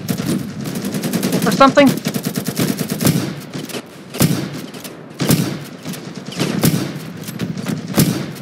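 Rapid automatic gunfire in the video game Ravenfield, a dense machine-gun burst up front followed by scattered single shots and thuds, loud and close, with a player talking briefly over it.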